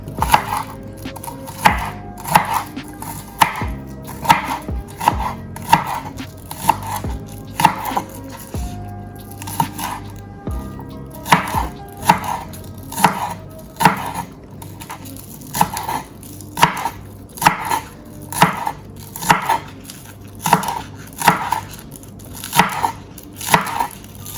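A knife chopping scallion on a wooden board for a Jamaican breakfast seasoning, close rhythmic thuds in quick bursts with short pauses between runs, steady and fairly loud, no speech.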